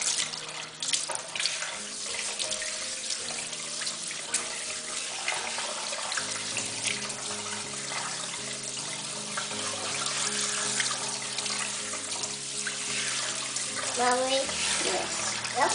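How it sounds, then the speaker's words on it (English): Running water rinsing shampoo out of a toddler's hair, a steady close splashing flow beneath soft background music with brief faint sounds from the child. "So I'm just rinsing out the shampoo really good."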